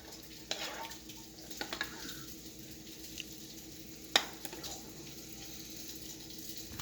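A spoon gets rinsed under a running kitchen tap, with a soft, steady trickle of water and a few light clinks of metal against the sink, quiet and close.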